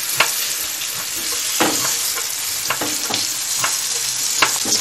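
Bonito fillets frying in pure butter in a pan give a steady close sizzle, broken by scattered sharp crackles and spatters as the fish and fat are moved around.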